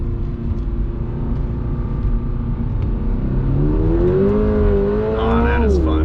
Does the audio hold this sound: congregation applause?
no